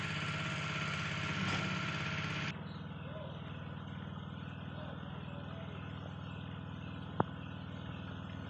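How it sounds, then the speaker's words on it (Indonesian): A swimming pool water pump engine runs steadily at close range, a continuous mechanical drone that shifts to a slightly lower, quieter tone partway through, with one sharp click near the end. "Inilah mesin pompanya."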